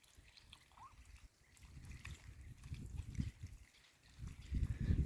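Ducklings splashing and trickling in a drying pond, with irregular bursts of sloshing and small splashes growing louder toward the end.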